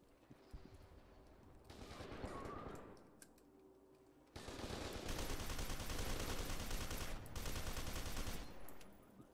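Automatic gunfire in the shooter game F.E.A.R. 2: Project Origin, rattling in dense rapid bursts that are short at first, then a long loud stretch of sustained firing with a brief break before it ends.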